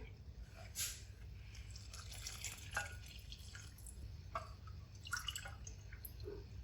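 A cup of water is poured into wheat flour in a mixing bowl to make dough, giving soft, faint trickles and scattered drips with no talking.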